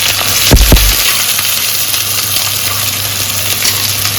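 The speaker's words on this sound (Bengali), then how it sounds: "সবার আগে আমি এটার মধ্যে পেঁয়াজ কুচি আর লঙ্কা কুচিটা একসাথে দিয়ে দেবো।" Chopped onion and green chilli hitting hot oil, a loud splashy hiss as they drop in, settling into a steady, close sizzle that carries on alone.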